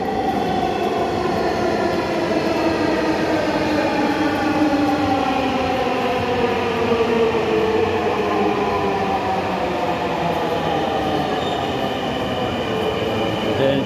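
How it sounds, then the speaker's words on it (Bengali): A metro train pulls into Karwan Bazar station, a steady loud rolling rumble with rising wheel and motor tones throughout, no talk over it. "ট্রেন চলে আসছে।"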